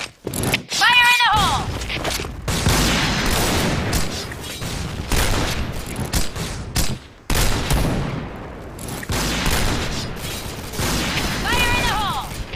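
Gunfire and grenade blasts from the Point Blank shooter game, with loud repeated bursts of shots and booms filling most of the stretch, broken by brief gaps, while a game voice calls out over the action.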